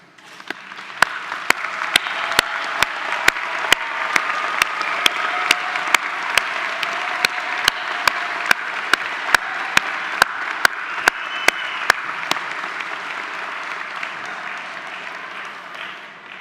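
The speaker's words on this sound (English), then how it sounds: "I'd like to ask our graduands to please stand and give them a round of applause" Steady applause from a graduation ceremony audience runs for about sixteen seconds at an even level, clapping filling a large hall, with a series of sharp, regularly spaced clicks sounding over it for the first twelve seconds.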